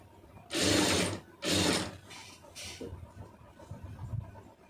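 A sewing machine stitching thread piping onto fabric runs in two steady bursts of fast, even whirring, close by, then gives way to quieter handling noises and a soft hum.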